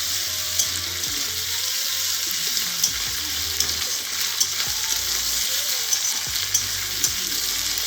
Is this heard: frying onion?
yes